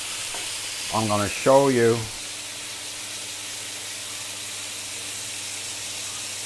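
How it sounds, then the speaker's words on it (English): Ribeye steaks searing in bacon fat in a pan, a constant loud sizzle and spitting hiss; someone speaks briefly near the start, then the searing continues alone. "It's time to flip these steaks as well"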